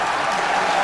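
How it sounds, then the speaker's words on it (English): A stadium crowd at a Bears–Seahawks preseason football game breaks into a brief burst of cheering and applause, a dense, steady wash of distant clapping and voices. "you can hear the cheers of the crowd"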